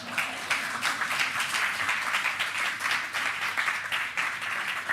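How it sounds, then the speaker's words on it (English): Applause from an audience at a speaker event, a short burst of steady clapping that holds at an even level throughout. "That's worth an applause."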